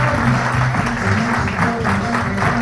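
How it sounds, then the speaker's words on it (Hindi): A hall audience applauds a company's top-level leader at a business association gathering: dense, loud, continuous clapping that fills the whole span, with a few voices mixed in. "एक बार तालियां होनी चाहिए उनके लिए।"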